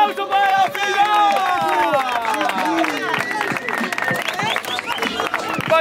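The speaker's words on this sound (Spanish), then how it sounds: "¡Un aplauso para la final!" A crowd at a rap battle final cheers and claps in a loud, continuous roar, with many excited voices shouting over the clapping the whole time.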